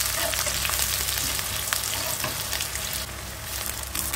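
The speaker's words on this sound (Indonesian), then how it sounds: "Kita aduk." Food fries and sizzles in a pan as it is stirred after sweet soy sauce goes in, a steady loud hiss with faint scraping of the spoon, close and continuous with no talk.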